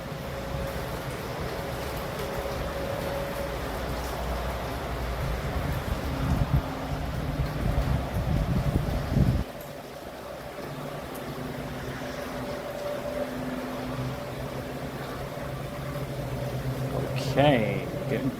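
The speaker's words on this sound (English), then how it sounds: "Okay, getting breezy." Steady wind roar during Tropical Storm Helene in Stockbridge, Georgia, a constant low rumble with microphone buffeting that swells and eases, while someone talks over it.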